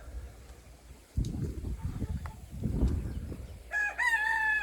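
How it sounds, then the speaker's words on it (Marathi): On a farm in the morning, a hen clucks in short bursts over low background noise as chickens roam, then a rooster crows loudly near the end. "कोंबड्यांचा दल फिरतो इथं"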